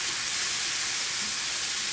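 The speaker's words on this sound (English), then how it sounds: "I'm actually going to take and put a little bit of water in it, just so we can get a little bit of steaming action" Water hisses and steams in a hot pan with onions and garlic, a loud, continuous broadband sizzle filling the whole stretch without talk.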